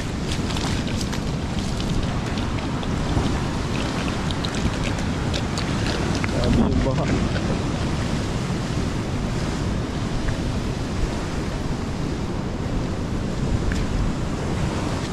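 Floodwater and crashing waves pour over a seaside boulevard in Dipolog during Typhoon Kristine, a dense continuous roar with wind buffeting the microphone and faint voices underneath.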